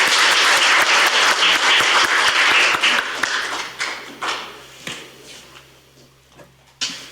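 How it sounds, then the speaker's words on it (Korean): Audience applause at a political forum seminar in a hall, loud and dense at first, then thinning into scattered claps and fading out over several seconds. "큰 박수로 모시도록 하겠습니다"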